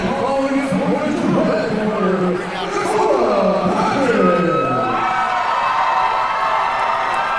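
A local crowd cheers for fighter Dakota Tackett at a fight event, with whoops, shouting and children's voices rising and swelling for several seconds, while an announcer talks over the noise.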